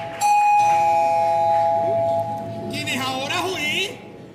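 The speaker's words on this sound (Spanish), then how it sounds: "Uy, el timbre." A doorbell rings with a sustained, bright electronic tone for about two seconds, followed by loud, excited voices talking over each other.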